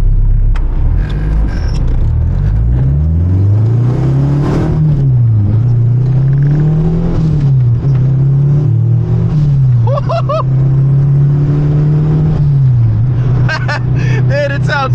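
A Honda car fitted with a K24 engine revs and accelerates loudly and close, its engine note climbing and falling in repeated waves, with people talking over it.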